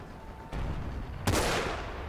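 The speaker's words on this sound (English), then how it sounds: "I have been shooting at that guy for so long." Gunfire in the video game Forgotten Hope 2, two loud close shots with a sharp burst and lingering rumble, the second louder and brighter, heard alone.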